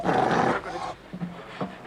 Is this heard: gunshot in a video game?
no